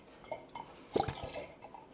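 A liquid mead mixture of honey and water is poured into a vessel, giving a short, soft run of close trickling and dripping splashes.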